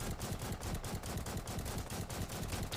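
Gunfire in a Lego Titan shooting video game, continuous rapid automatic shots rattling in a steady dense stream, loud and close with no talk over it.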